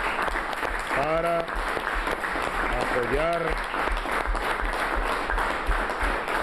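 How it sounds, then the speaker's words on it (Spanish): A crowd at an outdoor Venezuelan political gathering applauds steadily under amplified speech, the clapping a continuous moderate roar while a voice calls out over it. "pido un aplauso en reconocimiento a su esfuerzo"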